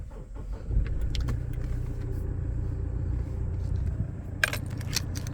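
A 2017 Toyota Land Cruiser Prado GXL engine is running, with a low steady rumble throughout, close by, while scattered light clicks and jingling sounds rise over it near the end.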